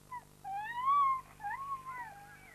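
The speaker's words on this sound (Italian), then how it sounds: "questo suono emesso da un lupacchiotto che ulula per" A wolf cub's thin, wavering high-pitched howl rises and falls, then a second quieter cry follows, faint and alone over a low steady hum.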